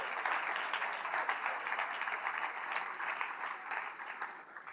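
A church congregation claps together in a sustained round of applause that fills the room, steady and dense before easing slightly at the end.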